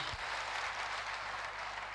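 An audience applauds at a Forever Living success day event in Ahmedabad, a steady, dense wash of clapping that holds evenly throughout with no voices over it.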